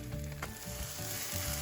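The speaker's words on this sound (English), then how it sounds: "I can hear it starting to sizzle under there" Mayonnaise-coated French toast sizzles and fries steadily in a pan, a close, continuous crackle with a low hum beneath and no talking.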